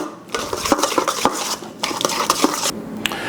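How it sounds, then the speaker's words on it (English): Metal whisk rapidly beating cream cheese with vanilla extract in a bowl for banana pudding, a busy clattering scrape with quick irregular clinks against the bowl, close and steady throughout. "Now get your whisk and get this cream cheese super soft."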